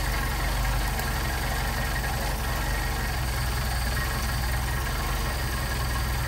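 A Mercedes 190SL engine idling steadily while its Solex carburetors are adjusted, a loud close low rumble with an even, continuous pulse and no talking.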